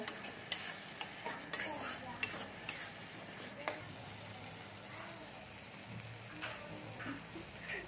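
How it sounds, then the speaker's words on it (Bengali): Egg curry masala with chopped coriander leaves is stir-fried in a pan, quiet sizzling under a series of clinking spatula scrapes and taps early on, thinning to a soft hiss, no voices. "এর মধ্যে আমি ধনে পাতা কুচিগুলো দিয়ে দিচ্ছি, দিয়ে ভালো করে মশলাটা আমি কষে নেব।"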